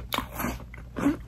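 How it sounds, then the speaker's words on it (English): Someone bites into a slightly overbaked, crunchy pumpkin cheesecake cookie, giving two or three close, crisp crunching bites with no speech. "I just tried the pumpkin cheesecake cookie and it is really good"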